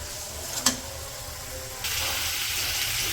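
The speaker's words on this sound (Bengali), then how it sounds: "এই পাশে হচ্ছে মশলাগুলো কষা নিচ্ছি।" Ground turmeric, chilli, cumin and salt fry in a pan during village home cooking. A sharp clack comes first, then a sudden bright sizzle starts partway through and holds steady to the end.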